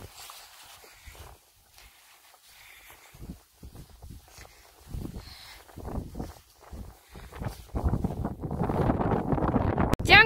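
Strong wind blowing on open hills, buffeting the microphone in irregular gusts that build to a loud, steady roar toward the end, with footsteps or rustling faintly beneath.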